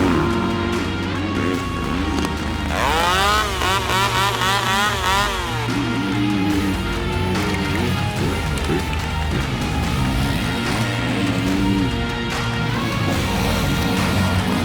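Enduro motorcycles race on a dirt track with loud, close engines revving and rising in pitch as the bikes accelerate, a continuous roar of several machines.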